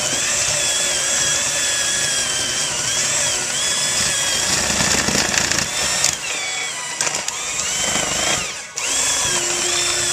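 An electric mixer beats softened butter and cream for a pumpkin roll filling, a loud continuous whirring motor whine whose pitch wavers as the beaters work, dipping briefly near the end.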